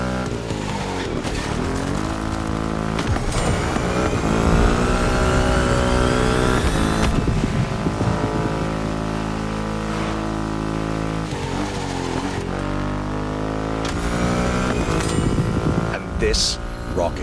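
A Triumph Rocket 3 motorcycle with a 2.5-liter engine in the racing game The Crew Motorfest, loud and close, revving and accelerating through repeated gear changes with rising and falling engine pitch.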